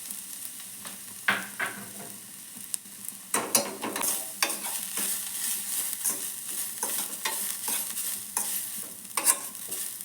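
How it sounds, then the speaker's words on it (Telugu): Grated carrot being stirred and fried in a pan for a sago carrot payasam, with irregular scraping strokes of a spoon against the pan over a soft continuous sizzle, close and fairly quiet, no talk. "కొంచెం అలా పచ్చివాసన అనేది పోయే వరకు లైట్గా వేయించుకోవాలి"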